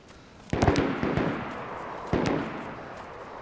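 Gunshots in DayZ, two distinct loud shots with rattling echoes, the first a quick cluster of cracks and the second a single report, set against quiet outdoor ambience.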